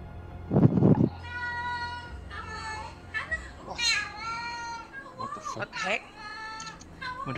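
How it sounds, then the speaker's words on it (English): A cat meows repeatedly, several rising and falling cries spread over the span, mixed with people talking and a thud near the start. "It's a cat."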